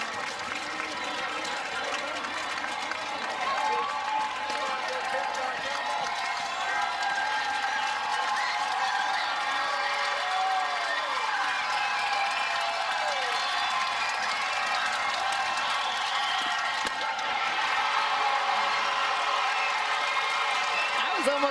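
A softball stadium crowd at an Oklahoma–Texas game keeps up sustained applause and cheering for the full stretch, a dense roar with scattered whoops and claps and some voices mixed in.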